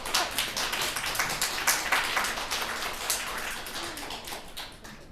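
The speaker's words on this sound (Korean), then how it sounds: "박수 한번" Church congregation applauding for their pastor during a farewell gathering at Eondeok Church, a steady pattering of many hands clapping close by without pause, no talking over it.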